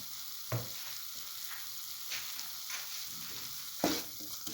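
Eggs in a pan, with spices and turmeric powder just added, are stirred over a steady frying hiss, with a few sharp scrapes of the utensil against the pan standing out.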